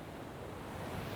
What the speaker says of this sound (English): Let's cross another little creek here.